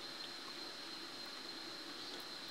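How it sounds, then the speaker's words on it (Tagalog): Water gushes steadily from a pump outlet with a constant even hiss, quiet and unbroken, and no voices. "ito na yung tubig guys. Lumalabas na siya."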